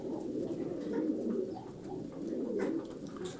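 Tumbler pigeons coo close by in soft, rolling, throaty bursts, two drawn-out phrases rising and falling with faint rustling around them.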